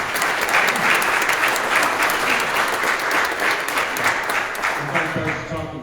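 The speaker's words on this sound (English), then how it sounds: "let's please give all the elected officials here a round of applause" Crowd at a county Republican Lincoln Day dinner applauding elected officials, sustained full-room clapping at steady volume, easing off slightly near the end.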